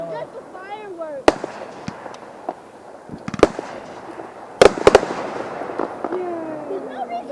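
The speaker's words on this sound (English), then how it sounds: "Just the fireworks." Fireworks go off outside, with sharp cracks and bangs scattered irregularly over a noisy background while people talk nearby.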